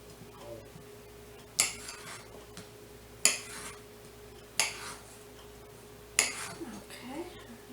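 Vegetables are chopped on a board for Creole smoked sausage and red beans: four sharp, separate knife strikes spaced evenly over a quiet kitchen background.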